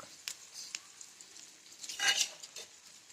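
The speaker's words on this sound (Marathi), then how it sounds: "ग्रेव्ही भाजली की हो का तेल सोडते" Gravy fries in oil for a pigeon pea amti. It is a faint, short stretch of patchy sizzling with a few quick stirring scrapes and a brief louder burst near the end.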